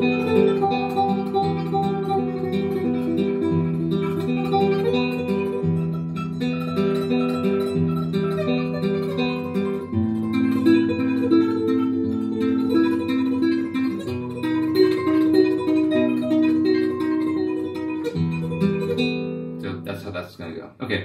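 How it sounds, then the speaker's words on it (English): Classical guitar playing the tremolo variation of the Spanish piece Romanza, a steady thumb bass under rapidly repeated fingered treble notes, continuous and close for about twenty seconds with no talking. "This is for the tremolo variation of Romanza."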